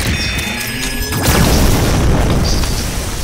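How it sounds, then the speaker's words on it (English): A grenade goes off in a video game with one loud, heavy boom that opens into a sustained crashing rumble, heard close and alone without talk. "Ubisoft's grenade really had Luke"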